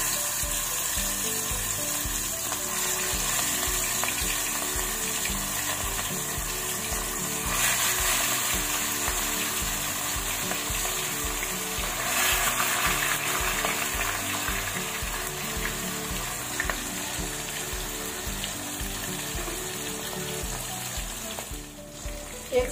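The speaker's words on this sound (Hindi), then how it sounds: "एक साइड से करीब 2 मिनट इसको हमें अच्छे से फ्राई करना है फिश को" Fish coated in spices fries in hot oil over moderate heat, giving a steady, close sizzle with crackling pops throughout and occasional brief swells of spattering, no speech.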